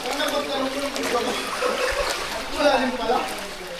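Sea water splashing and trickling as people plunge in at Crystal Cove, Boracay, a continuous close wash of splashes with voices talking over it.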